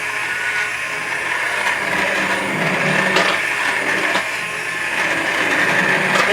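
A blender grinds cooked potatoes, turnips, rutabagas and carrots in a pot for soup, making a steady, loud whirring drone with occasional knocks and rattles and no voices.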